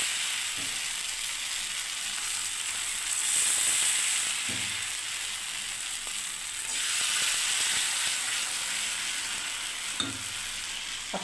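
Pitha frying in oil on a tawa, a steady soft sizzle that swells and fades with occasional light clinks of a utensil, fairly quiet and alone without talk.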